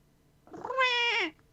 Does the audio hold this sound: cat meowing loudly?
yes